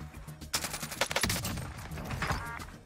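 Video-game gunfire rings out at long range, a faint lead-in followed by a dense cluster of sharp cracks and rattling bursts that gradually tail off, with no talking.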